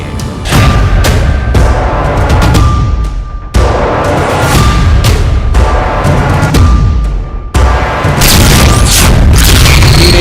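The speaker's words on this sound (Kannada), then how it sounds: "ಚಿಕ್ಕಬಳ್ಳಾಪುರದಲ್ಲಿ ನಡೆದ ಜಿಲಟಿನ್ ಸ್ಫೋಟ ಹೇಗೆ ನಡೀತು" Loud, deep gelatin explosive blasts boom three times, several seconds apart, with heavy rumbling that fills the gaps between them, at night in a forest area near a village in Chikkaballapur, India.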